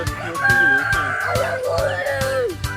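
A rooster crows loudly nearby at a mini zoo in Baling, a long drawn-out call, with clucking fowl and rhythmic tapping in the background.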